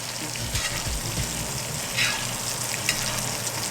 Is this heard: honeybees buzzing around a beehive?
no